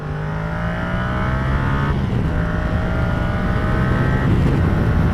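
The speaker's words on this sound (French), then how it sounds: "aujourd'hui on essaye une Yamaha MT-07 Tracer année 2017 en A2" A 2017 Yamaha MT-07 Tracer motorcycle in A2 restricted form is ridden, its engine droning steadily close up with gear-linked pitch shifts and a rising roar under heavy wind rush.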